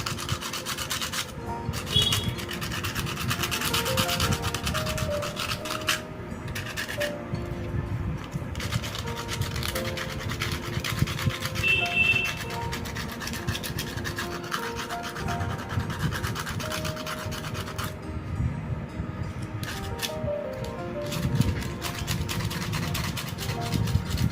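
A homemade grinder built from a hard disk motor, running on 12 volts, sharpens a blade with a steady, loud abrasive rubbing and scraping that continues without a break, with a few brief higher squeals.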